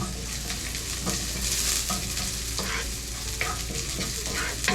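Thin slices of ginger sautéing in a little oil in a pan, a steady close sizzle and crackle with occasional stirring scrapes, no talking.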